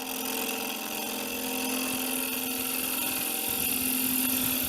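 A woodturning gouge takes heavy shaving cuts on a spinning wooden nut bowl mounted on a lathe, producing a steady loud whirring hum with a rough cutting texture.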